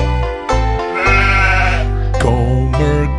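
A goat gives a few loud, close bleats in a row, each cry wavering and nasal, set against a bright children's song backing with no voices.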